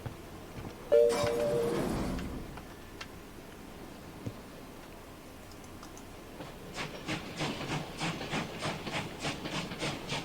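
A train stands by, with steam hissing from it: a loud burst of hiss, then a run of regular rhythmic puffs toward the end, with no talking.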